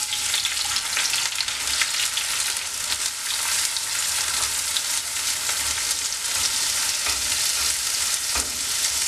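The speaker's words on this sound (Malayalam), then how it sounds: "ഇത് നന്നായിട്ട് ഒന്ന് ഫ്രൈ ആക്കി എടുക്കണം ഇടയ്ക്കൊന്ന് ഇങ്ങനെ ഇളക്കി കൊടുക്കണം" Bitter gourd pieces rubbed with turmeric and salt fry in hot oil for a Kerala-style pickle, giving a loud, constant, close sizzle broken by occasional stirring scrapes, with no talking.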